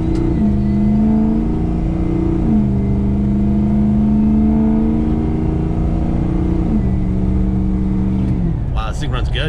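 A 2005 Ford F350 King Ranch pickup engine runs loudly close by, its steady drone rising and settling through a few revs before a voice cuts in at the end.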